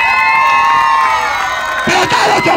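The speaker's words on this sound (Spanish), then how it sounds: "Señores, el público grita y aplaude así." A crowd at a Mexican clown show whoops and shouts loudly, a bright sustained roar with children's cries, swelling again near the end with some clapping.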